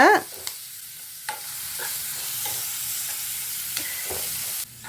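Ginger garlic paste sautéing in oil and butter for pav bhaji, a steady loud sizzle and hiss that runs throughout, with occasional light scrapes of stirring and no talking.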